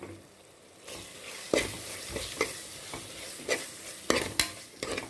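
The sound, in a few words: onions sautéing in a pan for chicken gravy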